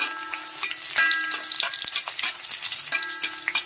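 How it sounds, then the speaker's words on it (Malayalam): Close, busy frying crackle as dried red chilies and mustard seeds fry in oil, with sharp pops and stirring scrapes, continuous and fairly loud, with no voices. "രണ്ട് മൂന്ന് വറ്റൽമുളകും കൂടെ നമ്മൾ കടുക് പൊട്ടിക്കാനിടുന്നുണ്ട്."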